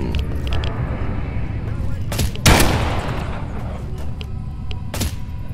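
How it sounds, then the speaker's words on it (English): Gunfire in the S.T.A.L.K.E.R. Anomaly video game, several loud shot bursts cracking over a constant rumbling game ambience. "Who's shooting at me?"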